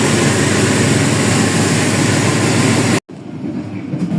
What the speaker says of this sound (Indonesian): Setelah lokomotif langsir